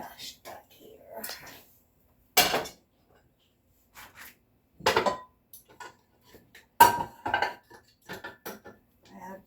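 Pots and pans clattering as a big pan is dug out of a crowded kitchen storage spot, several sharp metallic clanks and bangs in separate bursts with quiet gaps, a voice talking softly in between.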